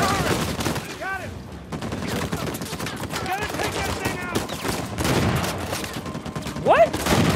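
Rapid gunfire fills a firefight in Uncharted 4: A Thief's End, with loud bursts and fusillades running throughout under voices and chatter.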